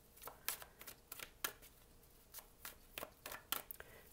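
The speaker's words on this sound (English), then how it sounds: "I'm going to pull a card here from Doreen Virtue's Romance Angels." A card being drawn from a Romance Angels oracle deck, with a quick run of crisp, close card-handling flicks and shuffling riffles at an uneven pace, fairly quiet.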